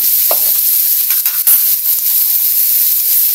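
Sweet potato (kamote) frying in a hot centennial pan, a steady loud sizzle with a few stirring scrapes and clatters.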